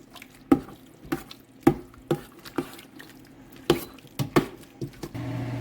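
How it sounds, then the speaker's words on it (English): Mustard pickle vegetables being stirred in a pot give a sequence of irregular knocks and scrapes of a spoon against the pot, close and moderately loud, followed by a soft rising simmer at the end. "I'm just going to keep stirring"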